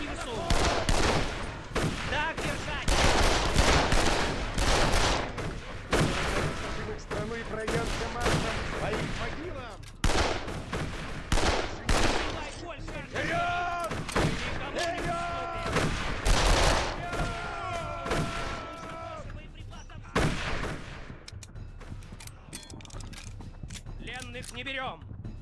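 Dual pistols firing in the game Darkest of Days, with rapid, loud shots in bursts amid battlefield gunfire and mechanical clatter, and a person talking over parts of the action.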